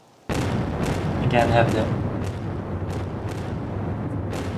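Cannons fired from a port in a modded New Horizons game, a sudden loud blast followed by a dense rumbling barrage of booms and a crash, while someone talks over it.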